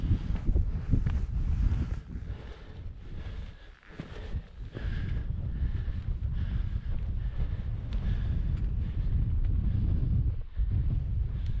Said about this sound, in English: We're quite breezy up here, we think, so we're in a bit of shelter from the hill at the minute.